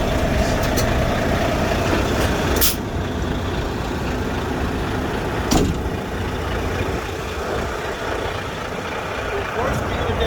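A truck idling with its parking brakes set and four-way flashers on, during a coupling and uncoupling procedure, gives a steady engine drone with brief hissing bursts. A voice talks over it.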